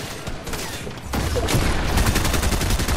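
Gunfire in the video game Fortnite erupts as a dense, sustained volley of rapid shots, loud and close, starting quietly then swelling into a continuous rattling barrage with no talking.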